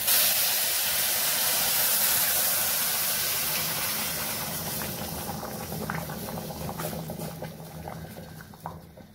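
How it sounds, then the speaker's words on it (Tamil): Boiling water poured onto roasted broken wheat rava in a pan for Tamil-style rava kesari, a loud bubbling, spattering sizzle with hiss that gradually settles and thins over several seconds, no talk. "அந்த கொதிச்ச தண்ணிய தீய குறைக்காம அப்படியே ஊத்தணும்."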